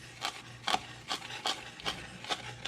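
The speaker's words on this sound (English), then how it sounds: "When you chop, you allow for all the oils of the leaves to come out." A knife chops fresh herbs on a cutting board for Italian chicken, giving about six evenly spaced, crisp strokes close by, with no talking.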